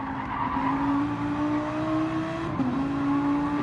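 Simulated GT1 race car engine in Gran Turismo on the Trial Mountain circuit, a steady loud drone held at moderate revs with a brief pitch dip near the end, mixed with tyre noise.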